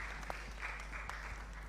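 Audience applause at a mobile technology for development conference panel, a steady wash of clapping at moderate distance, fairly quiet, with no talk over it.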